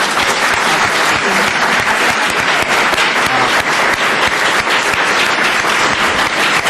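Loud, dense applause fills a conference hall at the US Congress during a meeting on protecting Camp Ashraf, continuous clapping from a large crowd with no talk over it.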